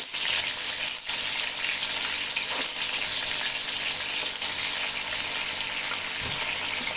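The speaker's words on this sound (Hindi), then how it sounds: "अब हमने चिकन को फ्राई करेंगे इसमें अच्छे तरीके से" Chicken pieces fry in hot oil in a pan after the onions are removed, a dense and steady close sizzle that runs unbroken for the whole stretch, with a couple of faint clunks and no voices.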